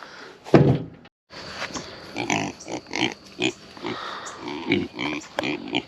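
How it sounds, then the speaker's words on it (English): Pigs grunt and snort close by in quick, uneven bursts while being fed on a homestead, with a sharp clatter at the start and rustling movement between the grunts. "Are the pigs hungry?"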